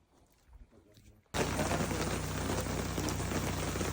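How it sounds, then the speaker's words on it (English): At Lassen Volcanic National Park, rain and hail suddenly pelt down after a quiet, rustling start, becoming a loud, dense, steady roar of drops striking surfaces. "it has never done this before, or even rained at all like this. And it's hailing also."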